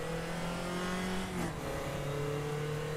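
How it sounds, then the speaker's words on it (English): A race car engine in the RaceRoom Racing Experience driving sim revs loud and steady as it pulls out of a corner in first gear, its pitch wavering and then climbing, with no talk over it. "Try and get some revs for the exit."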